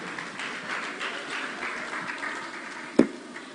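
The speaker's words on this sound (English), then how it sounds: "Round of applause for her." Brief applause for a speaker at a business and career expo, a moderate patter of clapping hands from an audience, with one sharp louder knock near the end.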